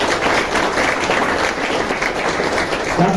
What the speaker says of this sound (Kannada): ಚಪ್ಪಾಳೆ ಹೊಡೆಯುತ್ತೆ.